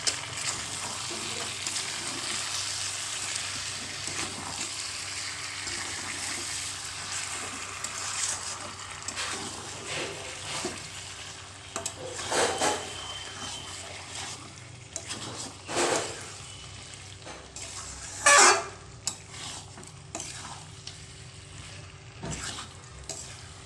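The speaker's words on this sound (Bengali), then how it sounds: "ভালোভাবে আরেকবার নেড়ে নেওয়া হবে।" A spoon stirs mutton curry in a pot, giving soft scraping and clinking with a low simmering sizzle and a few sharper knocks against the metal.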